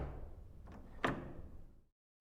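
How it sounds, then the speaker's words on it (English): A wide, sturdy double door is knocked in a dungeon-crawling video game, giving one sharp thud amid a soft rumbling background before the sound cuts to silence. "Alien knocks the wide and robust double door."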